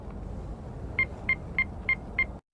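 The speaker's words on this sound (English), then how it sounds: "I'm going to pick up the phone and I'm going to listen to the first 5 beeps to see what my answer is" Five short, evenly spaced beeps from an in-game telephone playing Morse code, each a brief clean tone over a low background rumble, then abrupt silence.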